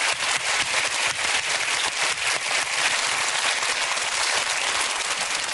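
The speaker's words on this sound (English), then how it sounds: "Let's give her a nice big round of applause." Loud, sustained applause from an audience at a live demonstration, a thick even wash of many hands clapping throughout with no break.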